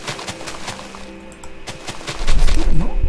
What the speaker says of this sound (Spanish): macro explosión de las que...